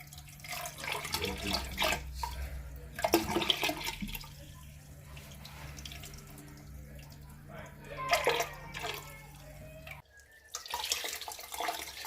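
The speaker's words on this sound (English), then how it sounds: "So now the water's coming out clearer than what it was." Water gushes steadily out of a boiler radiator system during a Magnaclean flush on a Baxi 800 combi boiler installation, running continuously with splashing surges and brief pauses, with occasional voices nearby.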